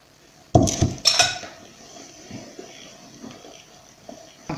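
Utensil clinks against a mixing bowl as cake batter for a classic Easter cake is stirred with egg whites, two sharp clattering bursts followed by quieter scraping taps.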